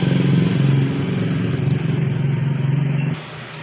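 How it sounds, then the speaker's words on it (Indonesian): A Honda Scoopy scooter engine runs with a rough, uneven mechanical note, a steady close drone that cuts off near the end, leaving a quieter idle. "Kita buka apa saja yang diakibatkan dari suara kasar di bagian mesinnya ini."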